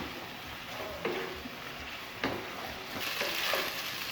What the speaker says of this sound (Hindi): इनको 3 से 4 मिनट के लिए फ्राई कर लेंगे